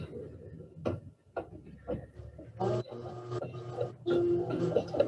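A Baby Lock sewing machine stitches quilt pieces in quick, quiet bursts of mechanical ticking, stopping and starting several times, close by with no talking.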